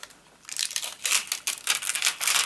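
Crinkly rustling and crackling of packaging, loud and close, in repeated bursts with brief pauses between handling movements.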